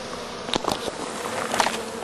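Honey bees at a hive give a continuous close buzzing hum, with a few louder passes of individual bees flying near, and no voices.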